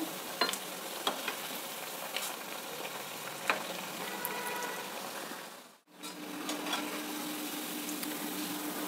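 Moong dal masala vadas fry in hot oil with a steady, bright sizzle, small pops and spatters ticking through it, close and continuous apart from a brief dip near the end.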